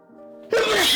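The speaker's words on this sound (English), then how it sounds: "Thought I'd give a countdown on my sneeze." A man sneezes once sharply and loudly, close up, after a brief quiet tonal sound.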